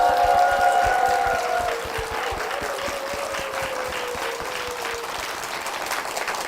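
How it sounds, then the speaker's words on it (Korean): A church congregation applauds vigorously for its senior pastor and church, a dense, sustained wash of clapping that fills the room with a steady rhythm, and a brief tonal sound lingers near the start. "우리 담임 목사님과 교회를 위해서 힘찬 박수 부탁드립니다"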